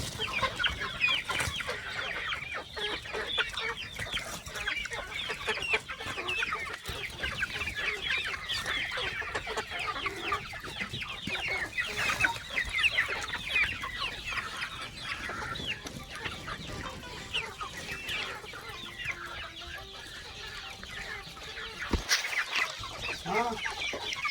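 Many native village chickens, mostly roosters along with young hens, cluck steadily and continuously at a moderate distance, a busy overlapping chatter of a flock with no talking.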